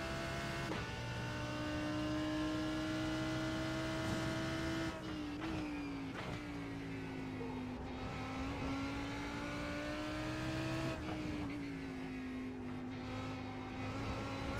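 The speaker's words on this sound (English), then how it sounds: "You hear that traction control? Didn't let the car accelerate." In a Sebring sim racing game, a race car engine drones at a steady high pitch, with brief stutters and pitch drops as traction control cuts in and holds back acceleration.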